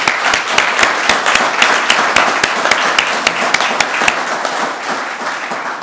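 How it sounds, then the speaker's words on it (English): Sustained audience applause at an outdoor memorial garden ceremony, many hands clapping, dense and steady, tapering slightly toward the end. "please give them a round of applause"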